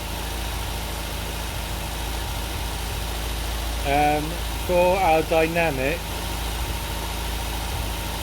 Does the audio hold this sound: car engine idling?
yes